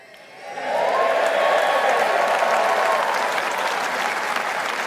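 Press conference attendees break into applause, swelling quickly from quiet into a full, sustained clapping from a sizable crowd that holds steady to the end.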